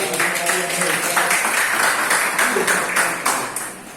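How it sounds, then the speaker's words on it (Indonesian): A classroom of students claps together in a quick, fairly rhythmic burst of close, loud hand claps that carries on for a few seconds, with some voices mixed in. "Oke, tepuk tangan sekali."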